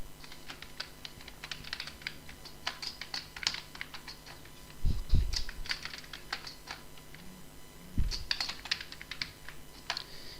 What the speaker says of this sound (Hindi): फ़र्ज़ करें मैं कुछ टेक्स्ट लिखता हूँ